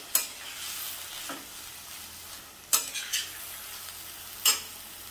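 Vegetables being stirred and sautéed in ghee in a pan for veg pulao, a soft sizzle punctuated by several sharp scrapes and clinks of the spoon against the pot.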